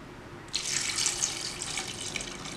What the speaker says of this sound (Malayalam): ഈ സമയത്ത് നമുക്ക് വെള്ളം ഒഴിച്ചു കൊടുക്കാം.